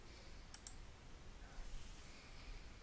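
Two quick faint computer mouse clicks in close succession, pressing a sync button in inventory software, over low room hiss and no voices.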